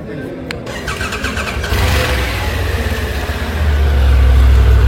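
A Triumph Tiger 900 motorcycle with a 1200 cc inline three-cylinder engine starts and revs. The starter cranks briefly, then the loud, close engine catches and rises to a deep, building roar. Voices talk over it.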